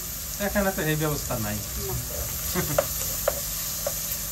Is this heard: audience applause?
no